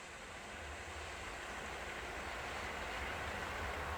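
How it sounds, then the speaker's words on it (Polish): A Flirt electric multiple unit train running from Warszawa Wschodnia to Łowicz Główny passes by, a steady broadband rumble and rolling hiss that swells gradually and stays fairly faint and distant, with no voices. "Mamy pociąg z Warszawy Wschodniej do Łowicza Głównego, Flirta."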